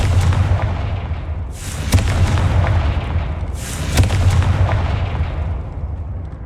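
Two booming fire-spell explosions in Hogwarts Legacy, each a sharp blast with a hissing burst, spaced about two seconds apart over a loud rumbling game backdrop, with no speech.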